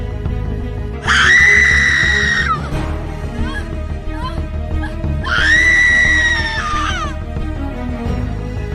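A woman gives two long, loud, piercing screams a few seconds apart, close up in a horror story set in a haunted hostel at night, with dramatic background sound between them.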